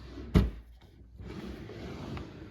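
An IKEA drawer in an art studio opens or shuts with a single sharp, close knock near the start, followed by quiet room tone.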